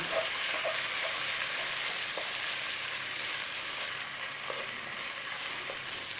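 Hing and turmeric sizzle in hot ghee while being stirred, a steady dense frying hiss with faint occasional scrapes, continuous and close with no voices.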